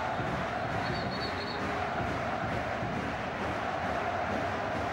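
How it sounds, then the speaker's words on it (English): A large football crowd at Blackburn Rovers' home ground against Red Bull Salzburg roars in a steady, dense wash, with a band and drums going down in one end, the noise continuous and distant-sounding throughout. "They've got the band down there, they've got the drums going."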